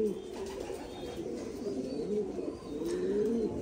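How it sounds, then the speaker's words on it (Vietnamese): Breeding pairs of Thai Titan meat pigeons coo softly in a loft, their low, throaty calls overlapping continuously. Faint background noise runs under them. "Đây là những cặp chim bồ câu bố mẹ này"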